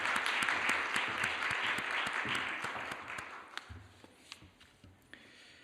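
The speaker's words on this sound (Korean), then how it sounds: "우리 목사님 나오실 때 격려의 박수로 모시겠습니다" Congregation applause at a Korean church Wednesday worship service, a dense sustained wash of clapping from many hands that gradually thins out, ending in a few scattered claps.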